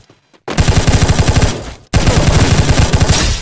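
Rapid automatic gunfire in the mobile shooter Free Fire Max, Clash Squad mode on the Bermuda Remastered map, loud close bursts of fast repeating shots separated by a brief pause, no talking.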